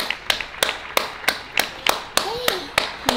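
Neighbours applaud from apartment windows at eight in the evening. About a dozen sharp claps ring out at an even pace, echoing off the buildings, and a short whistle sounds midway.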